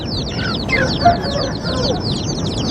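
A broody Indian hen clucks softly beside her two-day-old chicks, whose dense high cheeping fills the moment close by, with the hen's lower clucks underneath.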